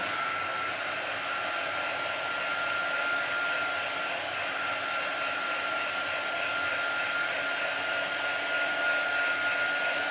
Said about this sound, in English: Let's go ahead and use our quick dryer and just dry that up.